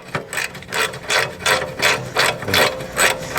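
Socket wrench ratcheting during an oil change on a 2020 Mahindra Roxor, a close, steady run of rhythmic clicking strokes repeating about every half second.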